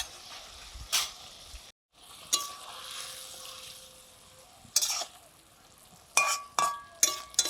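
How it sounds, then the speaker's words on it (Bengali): Fried potatoes go into a sizzling pan of Japanese puti fish curry with tomato, bringing soft frying hiss and several sharp stirring scrapes and clatters of a utensil against the pan, close by and without speech. "ভেজে রাখা আলুগুলো দিয়ে দিচ্ছি।"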